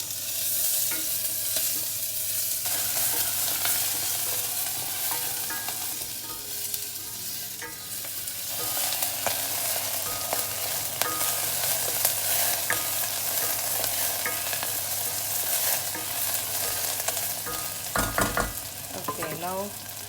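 Long beans, onions and green chilies sizzle steadily in a pan while a wooden spoon stirs and scrapes through them, with clear clacks near the end.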